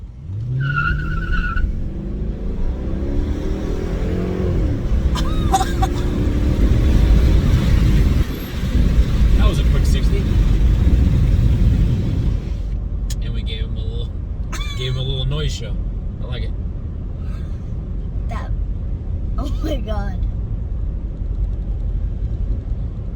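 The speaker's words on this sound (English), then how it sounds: "Maybe we'll get good audio of the exhaust." Exhaust of a car with a newer 5.7 Hemi engine while driving: a loud, sustained low rumble that swells under acceleration and then drops back to a lighter cruise, heard from inside the car with people talking over it.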